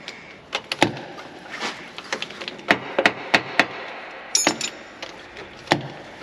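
Heavy hammer blows ring out in a workshop while a vehicle's steering is being repaired, a dozen sharp, loud impacts landing at an irregular pace with short pauses between strikes.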